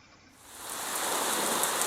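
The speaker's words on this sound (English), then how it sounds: "It's also raining in the level," Rain falling steadily in a Unity 2D platformer level, a dense hiss that swells in over the first moments and then holds loud and even, with no voices.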